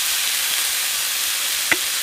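Chopped squash steams and sizzles in a pan at a forest campsite, a steady soft hiss throughout with one brief clink near the end, and no talking.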